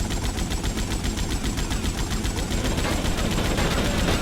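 Rapid, continuous automatic gunfire in the video game GTA Vice City, loud and steady with evenly spaced rattling shots and no pauses.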